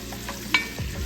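Onions frying in a pot for Ghanaian jollof rice, a soft sizzle with a spoon scraping and stirring through them in a few quick strokes, close and fairly quiet.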